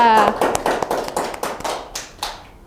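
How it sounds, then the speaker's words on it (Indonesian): A short burst of clapping from a small group of students in a classroom that quickly thins out, with a voice briefly heard at the start. "Beri tepuk tangan untuk Desa."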